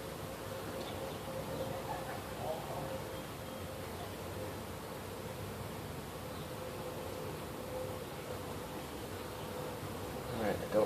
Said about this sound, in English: this is covered in bees